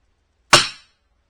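A single sharp crack from a custom rimfire bench rest rifle rings out alone, a sudden bright report with a short decaying tail amid silence.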